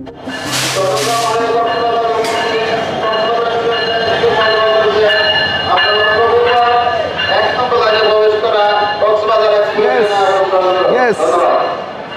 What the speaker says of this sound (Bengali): ইয়েস ট্রেন এক নাম্বার লাইনে ঢোকা